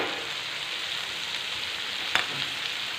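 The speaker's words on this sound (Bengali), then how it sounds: "তাই মাছের ডিমটা দিয়ে উচ্ছে আলু ভাজছি" Bitter gourd, potato and fish roe fry in a home kitchen pan with a steady, even sizzle, and a brief clink of a utensil lands near the end.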